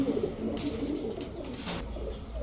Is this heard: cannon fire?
no